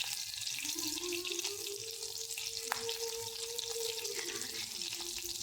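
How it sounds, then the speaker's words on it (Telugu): Green chilies frying in a pan, a steady close sizzle with faint crackles and a brief clink, continuous and even, no talking. "పచ్చిమిర్చి వేసుకుందామండి. అది కొద్దిగా వేగనివ్వాలి."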